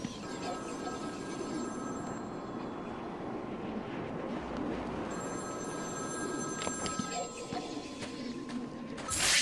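A telephone rings repeatedly in Batman: Arkham City, its steady bell-like tones sounding over a constant low rumble of ambient game noise, with no talking.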